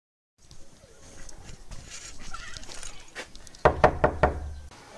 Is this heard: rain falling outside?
no